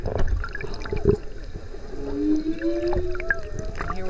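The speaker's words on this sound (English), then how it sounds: "so you can hear the whale calling." A whale calls underwater within a couple of miles, producing several moaning, gliding tonal calls and short whoops over a low watery rumble, moderately loud with no talk.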